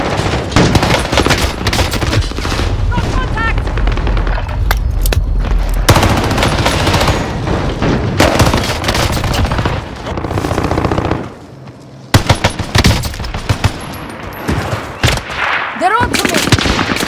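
Rapid automatic gunfire from an M1918 BAR and an M1A1 Thompson in the Warzone video game on Rebirth Island, loud and dense bursts nearly throughout with a brief lull, plus scattered in-game voices.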